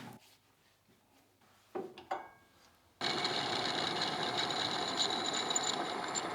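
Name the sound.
lathe turning stainless steel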